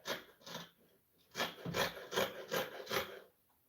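Scissors cutting fabric for palazzo pants: a series of faint, crisp snipping and rasping strokes in quick bursts, close by, with short pauses between cuts.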